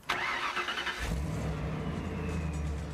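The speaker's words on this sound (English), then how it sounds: "the pleasure of hearing exactly what you've paid for every time you turn the engine on" A car engine cranks and catches, then settles into a steady low idle rumble, heard close up.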